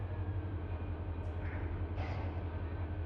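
A CSX freight train in Run 8 Train Simulator rolls along with a constant low engine drone and steady rail rumble, joined by faint higher squeals partway through.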